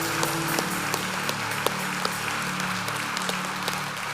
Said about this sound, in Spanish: Denle otro fuerte aplauso al Señor.